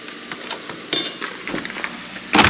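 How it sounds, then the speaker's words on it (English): Cheese dish simmering and being stirred in a pan, a soft crackling sizzle with light scraping strokes, close and fairly quiet, with a brief louder clatter near the end. "let that simmer for a bit, stir it all up"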